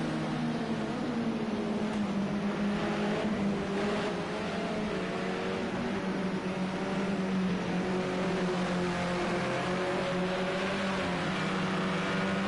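Modern touring cars race at Oulton Park, their engines forming a continuous loud drone that rises and falls in pitch as the cars accelerate and pass.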